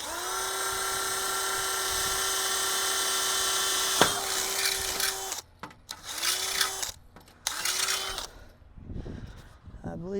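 A drill bores holes in a metal gate, a long steady high whine followed by several shorter bursts with gaps, fairly faint, while someone talks nearby.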